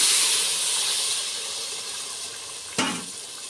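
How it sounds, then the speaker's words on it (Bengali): Water poured into a hot pan of fried prawn biryani base gives a loud steamy hiss and sizzle that slowly fades, broken by one sharp metallic clank near the end. "ভাজা হয়ে গিয়েছে, এখন পরিমাণ মতো পানি দিব।"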